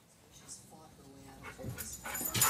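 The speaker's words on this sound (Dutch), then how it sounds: "Geen obesitas deze hond." A dog at a tennis match pants quickly and faintly, with a few soft whimpers and yips, growing slightly louder toward the end.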